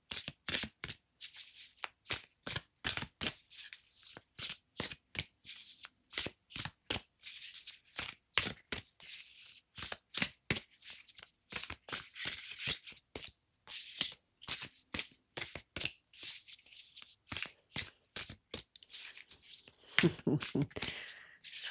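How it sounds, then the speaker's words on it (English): Tarot cards are shuffled by hand in a long run of quick, crisp riffling bursts, evenly spaced and close by, with a few denser flurries toward the end and no talking. "Sometimes the cards really want to be shuffled."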